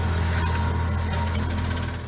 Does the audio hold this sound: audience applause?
no